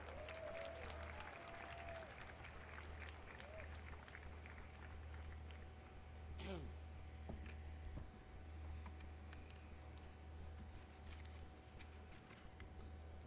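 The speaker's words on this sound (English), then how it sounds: "Please welcome with a huge round of applause" Audience at a 2019 university convocation applauds to welcome the keynote speaker, a steady, even wash of many hands clapping that sounds faint and distant and runs without a break.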